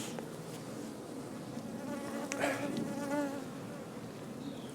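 A close, steady hum of many honeybees buzzing together at the hive on a farm, with individual bees droning louder as they pass near.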